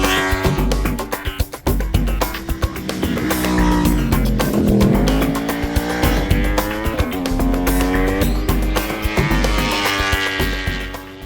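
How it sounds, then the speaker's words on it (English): A high-revving superbike with a full Graves race pipe and quick shifter screams and shifts through gears on a racetrack, pitch climbing and dropping repeatedly, loud and close with no talking. "It's one of those motorcycles where you get on it and it's got the neatest sound."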